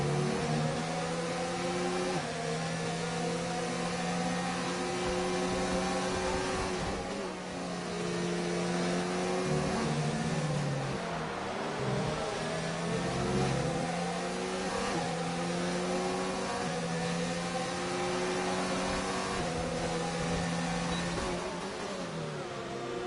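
Formula 2 race cars in a sim-racing league round at Austria, engines droning and shifting pitch as a train of cars runs through the corners, continuous and fairly steady with no voices.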